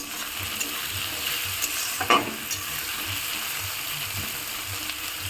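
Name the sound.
large-cut onions frying and being stirred in a pan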